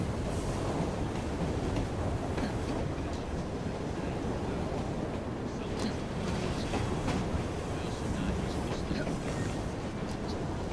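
A train rolling past in the Victorian London world of Assassin's Creed Syndicate, a dense, steady rumble and clatter that fills the whole stretch without let-up, with faint voices buried beneath it.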